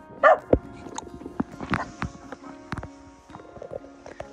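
A dog barks and yips in short, sharp bursts near a manor house on a trip in Poland, loudest at the start, with scattered knocks and scuffs between the barks and no clear talking.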